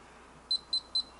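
A safe's electronic lock gives three short, evenly spaced high beeps after a wrong combination is entered, clear and close in a quiet room.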